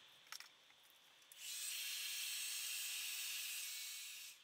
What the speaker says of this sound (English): then I'm going to use my blow dryer to move them around